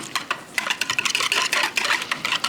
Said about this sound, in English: Now, I'm going to give it a little stir.